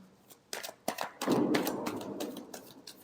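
A deck of tarot cards being shuffled during a reading, a few quick riffling snaps followed by a longer soft, papery rush of cards sliding together, close and moderately quiet.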